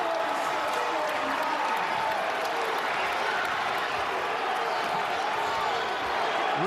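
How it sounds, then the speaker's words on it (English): A basketball crowd at Madison Square Garden during a UConn versus St. John's game roars in a dense, sustained swell, with a commentator talking over it. "Here comes the crowd at the Garden."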